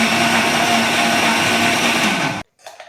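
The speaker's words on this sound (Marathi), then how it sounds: "फणसाचे गरे एकदा मिक्सरमधून काढून घ्यायचे आहेत" A mixer grinder blends jackfruit pulp with a loud, steady motor whir for over two seconds, then cuts off suddenly, followed by a brief faint rattle.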